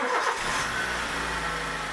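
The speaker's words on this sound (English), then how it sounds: "The engine is running really smooth." A Honda Jazz engine runs steadily right after an oil change, a smooth continuous mid-pitched hum with broad noise close by, alone without talk.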